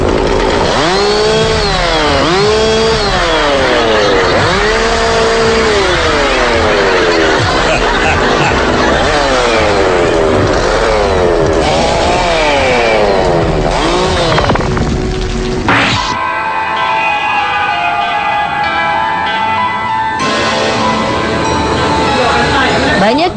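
A chainsaw revs loudly and repeatedly during a horror-themed prank, its engine rising and falling, and it continues alongside a narrator's voice and background music.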